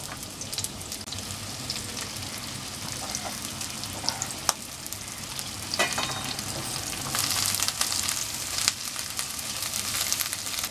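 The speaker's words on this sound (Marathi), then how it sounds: "याच्यामध्ये पातळ कांदा चिरून घेतला आहे मी आणि त्याला आपण छान परतून घेऊ" Thinly sliced onion sautés in hot oil in a kadhai, a steady close crackling sizzle with occasional scrapes and pops as it is stirred, and no talking.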